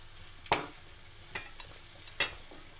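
Shallots and green chillies fry in oil for a chicken pepper gravy, a low steady sizzle broken by three sharp stirring scrapes, close and fairly quiet with no talk.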